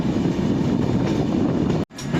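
A passenger train running on the Dudhsagar route between Vasco da Gama and Vijayawada gives a loud, steady rolling rumble with wheel clatter, broken by one brief dropout before it resumes.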